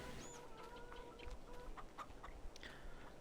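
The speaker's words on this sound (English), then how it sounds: "You can see we have 270 chickens, and they're just plowing through, making eggs" Chickens cluck in farm pens in Farming Simulator 22, soft scattered clucks and short calls from several birds over a quiet low hum.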